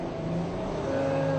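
A 2014 Bentley Flying Spur twin-turbo V12 launches from standstill, a steady loud engine roar with a rising tone heard from inside the car, short and without talking.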